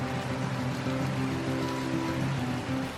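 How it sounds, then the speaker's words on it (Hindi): Steady rain pouring over a mountain village beside the Saryu river, a dense continuous hiss with a low rushing undertone, close and even throughout with no voices. "तो अभी तो फिलहाल काफ़ी बारिश हो रही है यहाँ पे।"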